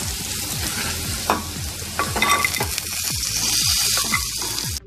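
Potatoes and turmeric frying in oil in a pan, a continuous sizzle broken by repeated scraping strokes of a spatula at a steady rhythm, close and fairly loud, with no talk.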